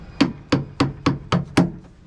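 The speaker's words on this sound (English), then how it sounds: "So I've got the hammer and chisel and just taking a bit away from the frame in here." A hammer strikes a chisel six times at an even pace, cutting into a wooden boat frame, each blow a sharp, close knock with a short dull ring.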